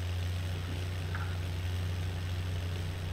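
A tractor engine idles in a farming game, a steady low drone with a constant hum that holds evenly for the whole three seconds, no voices.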